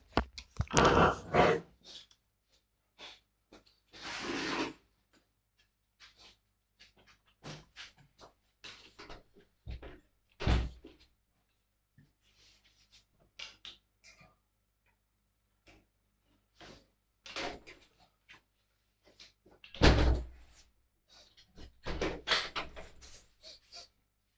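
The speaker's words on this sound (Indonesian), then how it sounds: "Saya tak tutup pintu dulu ya." A door being shut in an indoor room, heard as scattered knocks and thuds with a couple of louder bangs among faint rustling and quiet stretches, close by.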